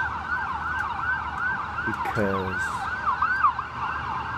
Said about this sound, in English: now there's an ambulance coming